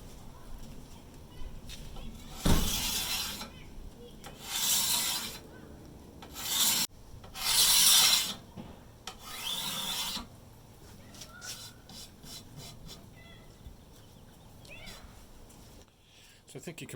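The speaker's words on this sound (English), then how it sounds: "just even after taking a few of those swipes with the card scraper, that surface is getting to be almost a polished appearance" A card scraper is drawn along the wooden surface of a bow in several separate rasping strokes, each about a second long and clearly audible close up, with quiet pauses between them and some talking in the background.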